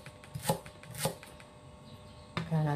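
Knife strokes slicing lemongrass on a board, a few crisp, separate chops with short gaps, followed by a brief sizzling tone near the end.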